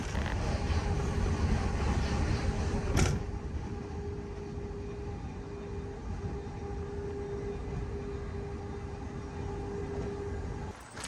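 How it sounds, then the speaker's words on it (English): Rumble of a commuter train running between Finsbury Park and Stevenage, a steady loud rolling drone with a faint tonal whine heard from inside, a brief clunk early on, no voices. "The train is pretty quick, it runs every 15 minutes or so"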